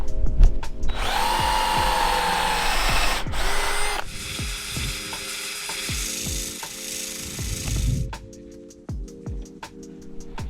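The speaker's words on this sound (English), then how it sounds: "I'm going to just drill this out." Power drill boring out wood on a boat transom, a loud steady whine lasting a few seconds, then a lower grinding run, then scattered knocks and light tool handling; no speech.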